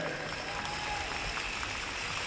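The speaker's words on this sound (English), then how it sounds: "How about a round of applause for all the other dancers out there?" A crowd applauds the dancers at an evening pow wow at ASU, a steady, dense wash of clapping from a distant audience with no breaks.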